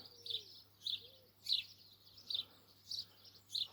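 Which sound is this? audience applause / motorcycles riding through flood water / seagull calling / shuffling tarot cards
seagull calling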